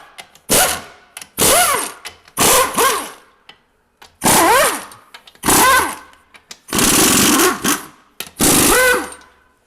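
A pneumatic impact wrench rattles out bell housing bolts on a 2009-2015 GMC Sierra Z71 5.3L with a 6L80E transmission, loud close bursts with rising and falling whine, about eight separate runs split by short silences.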